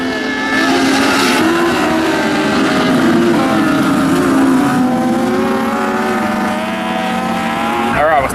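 Dwarf race cars racing on a dirt track, engines roaring and revving loudly as they pass and accelerate through a turn, with an announcer talking over the engine noise.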